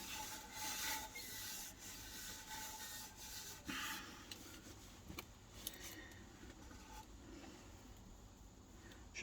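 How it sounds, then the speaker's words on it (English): Steady rasping friction of sandpaper rubbing over a thin wooden platter, continuous and close, with a few brief knocks. "I'm going to start sanding it down now."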